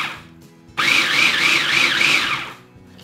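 A food processor pulses cookie crumbs with a quarter cup of melted butter, a loud whirring grind lasting under two seconds with a wobbling pitch, between quieter stretches of near silence.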